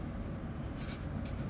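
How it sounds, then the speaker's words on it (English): Handwriting on paper, a short burst of scratchy pen strokes working out a circle geometry problem, close and continuous with a few brighter stroke bursts toward the end. "let me write down the question"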